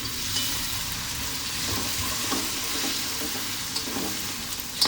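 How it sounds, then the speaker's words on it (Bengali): Ginger garlic paste stir-fried over a high flame for a mutton curry: a constant, fairly loud sizzle with occasional soft stirring scrapes, and nobody speaking. "এবার আদা রসুন পেস্টটা দিয়ে দেব, নেড়ে নিতে হবে ভালো করে"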